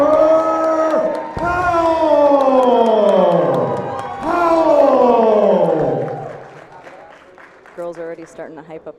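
A crowd at a fight event cheers and applauds loudly while a ring announcer draws out a fighter's name in long booming calls, and the roar then fades to scattered shouts.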